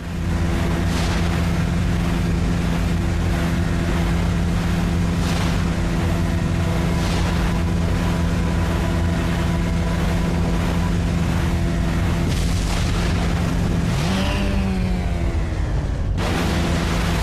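A jet ski engine drones steadily throughout in the Resident Evil 4 VR game, loud and continuous with wind and water noise, its pitch sweeping sharply near the end as the craft turns.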